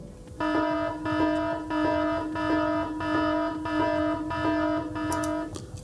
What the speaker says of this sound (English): Okay, so I'm going to ring the alarm.